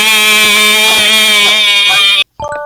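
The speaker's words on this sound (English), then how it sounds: "this one goes beep beep beep." An alarm clock sounds loud and close, a harsh, buzzy electronic tone held for about two seconds, then cut off and followed by a short, choppy burst of beeps.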